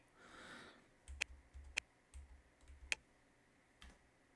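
Cursor keys on a Bluetooth keyboard used to navigate an Amazon Fire TV, pressed several times at uneven intervals as sharp, close plastic clicks in a quiet room.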